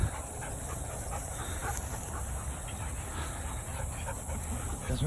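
A sled dog panting steadily outdoors in the woods, close and moderately loud, with faint whimpers mixed into the rhythmic breathing.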